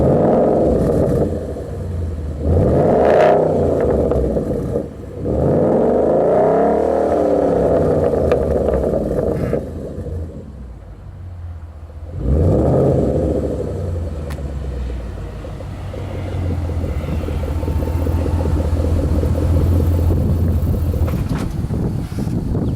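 A car fitted with a Roush exhaust with twin tips starts and revs repeatedly, loud throaty blips rising and falling, a short lull, then a steady rumbling idle close by.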